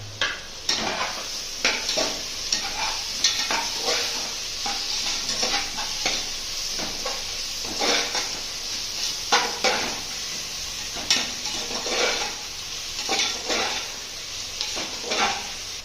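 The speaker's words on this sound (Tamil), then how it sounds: "வெங்காயத்தோடு போட்டு நல்லா வதக்கிருக்காங்க" Chopped onions sautéed with fresh mint and coriander in a pan, a steady loud sizzle of frying with frequent rhythmic scraping and stirring strokes of a spoon against the pan, close up and without speech.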